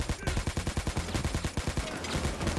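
Rapid bursts of gunfire from a grenade rifle in Payday 2, a steady string of loud, close shots in quick rhythmic succession for the whole stretch.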